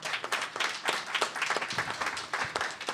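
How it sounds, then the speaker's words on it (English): An audience at a talk on fair housing rules gives a round of applause, a scattered, uneven patter of individual claps at moderate level, without speech over it. "So I just want to give him a round of applause"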